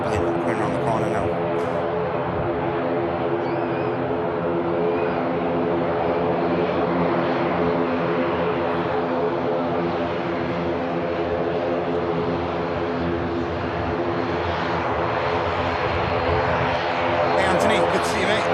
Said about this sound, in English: Noisy ATR for Dublin, coming around the corner now